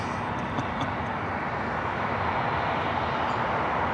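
An Alaska Airlines jet arriving at Los Angeles International Airport, heard as a steady broadband engine roar that holds constant and fairly loud throughout, with no voices.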